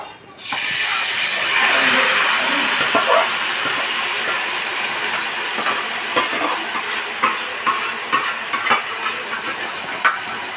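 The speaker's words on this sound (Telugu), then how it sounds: "ఆనియన్స్ చూసారు కదండి దోరగా ఫ్రై అయిపోయి, ఇప్పుడు కర్రీ వేసేసుకుందాం దాంట్లోకి" Curry poured onto golden fried onions in a hot pan for palak chicken biryani gives a steady loud sizzle and hiss, with scraping stirring clicks breaking through toward the end; no talking.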